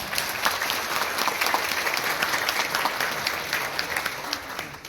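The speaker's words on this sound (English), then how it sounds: "Give them applause" Applause from a meeting audience fills the room, a dense, steady wash of many hands clapping at an even level throughout, without talk.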